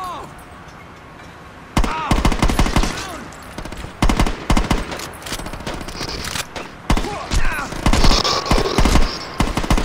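Rapid bursts of gunfire from Saints Row 2, sounding as repeated loud volleys and automatic fire after a quieter opening, with voices talking over the shooting.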